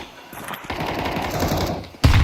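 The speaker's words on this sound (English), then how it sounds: "He eats a grenade. Fires off a shot." Rapid bursts of automatic gunfire from a Counter-Strike match during an IEM Chengdu 2025 esports broadcast, a dense rattling volley that runs steadily before a sharper, louder shot hits near the end.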